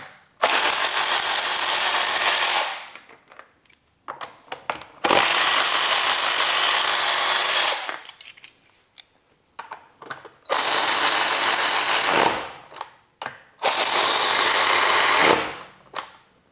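A cordless electric ratchet spins lug nuts off a car in four loud bursts of whirring, each two to three seconds long, with short pauses and small clicks between them.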